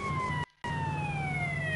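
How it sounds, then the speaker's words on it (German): A police car siren wails in Grand Theft Auto San Andreas on PS4, loud steady electronic tones gliding slowly downward, cutting out for a split second before resuming over a low engine rumble. "Mach mal die Sirene hier aus."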